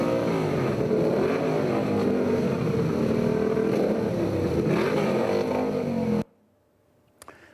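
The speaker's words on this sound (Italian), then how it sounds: "una lunga fila di moto ad accompagnare il feretro al vicino cimitero, seguito da un composto ma assordante rombo di motori" A long line of motorcycles roars past in a funeral procession escorting a coffin to a cemetery, dense overlapping engine drone with rising and falling revs, loud and close, cutting abruptly to near silence.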